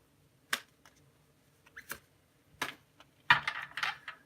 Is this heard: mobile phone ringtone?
no